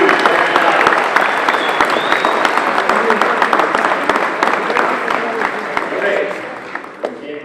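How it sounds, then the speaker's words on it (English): Applause from a football banquet audience, dense and sustained, filling the room and slowly tapering, with some voices mixed in. "A big round of applause for this championship,"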